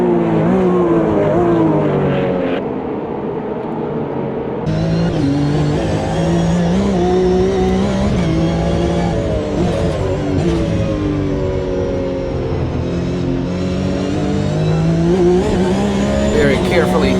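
A Porsche Cup race car laps the Long Beach Grand Prix street circuit, its engine loudly rising and falling through gear changes with brief tire squeals, heard close from the car while a voice talks over it.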